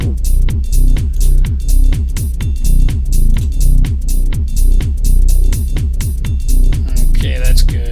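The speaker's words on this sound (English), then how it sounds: "There's our kick drum." Distorted kick drum from a Bitwig session, a loud booming electronic beat with gritty saturated hits pounding in a steady rhythm, repeating about twice per second without any voice.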